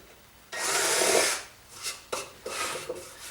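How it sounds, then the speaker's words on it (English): A countersink bit grinds briefly into a freshly drilled hole in a wooden desk drawer face plate: one sustained rasping burst, then several shorter scraping passes, close and fairly loud with no talking. "Now I'm going to clean it up with a countersink real quick."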